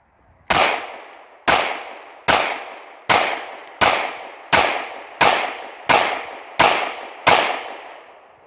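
A Glock 19 pistol fires 9mm rounds in ten loud, sharp, evenly spaced shots outdoors, each crack trailing off in a short echo before the next.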